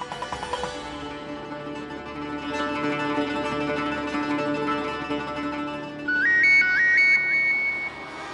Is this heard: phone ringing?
yes